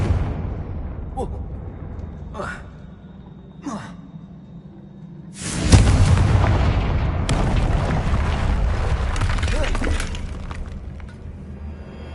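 A Confringo fire spell in a Harry Potter video game sets off a sudden loud blast, followed by several seconds of crackling, rumbling debris. Soft breathy whooshes come before it.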